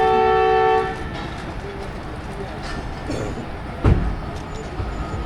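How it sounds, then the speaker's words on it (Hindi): Two trains departing together, with a loud, sustained departure whistle opening the clip and cutting off after about a second, leaving a steady rumble of rolling train noise and a brief thump near the end. "दोनों ट्रेन का सेम टाइम पे डिपार्चर विसल"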